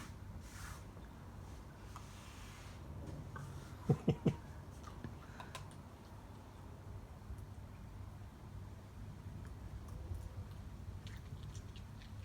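Dog crunching an ice cube, a few sharp crisp bites clustered briefly amid quiet indoor background with soft chewing noises.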